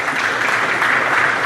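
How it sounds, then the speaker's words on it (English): Loud, dense applause from the audience at a college Phi Theta Kappa honor society ceremony, a continuous even wash of many hands clapping close by, with no speech over it. "I would clap for that as well."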